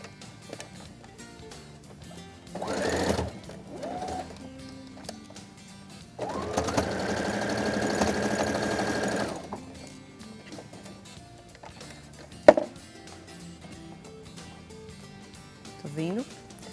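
A sewing machine stitches a Seminole patchwork towel in short bursts, two brief runs and one longer whirring run of about three seconds, with a sharp click later and someone talking quietly between the bursts.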